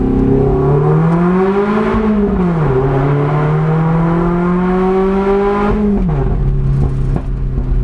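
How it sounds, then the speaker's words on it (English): A Lotus sports car accelerates hard in first gear inside a tunnel. The loud engine roar climbs in pitch, dips at a shift, climbs again and then drops off, heard close from inside the car. "I forget until I drive it again just how amazing this car sounds"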